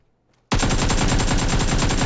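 Rapid automatic gunfire in a video game erupts abruptly after a brief silence and continues as a loud, sustained, evenly paced burst to the end.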